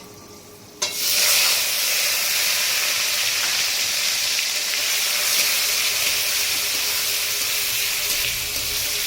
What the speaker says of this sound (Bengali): চলুন বন্ধুরা চিংড়ি মাছটাকে আমরা একটু লাল লাল করে ভেজে নিই